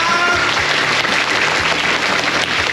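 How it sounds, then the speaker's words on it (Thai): Loud, dense applause from an audience at a Thai learning drama event, clapping as if for a concert, filling the short stretch with steady, close clapping and no talk over it. "ขอเสียงปรบมือกับคอนเสิร์ตเลยครับ"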